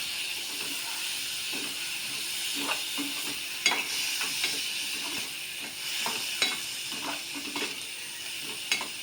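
Moong dal is stirred in a pan with a spoon, soft scraping strokes and light clinks recurring irregularly over a low, steady sizzle of frying.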